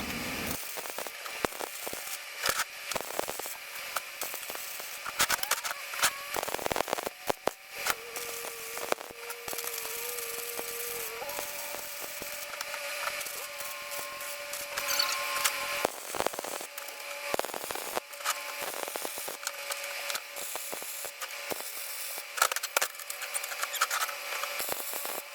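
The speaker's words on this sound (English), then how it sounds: "Go ahead and add some more welds in there." MIG-style welding on a steel shooting target stand built for AR500 plates, a steady crackling sizzle running through the whole stretch with brief pauses between beads, close and fairly loud, no voices.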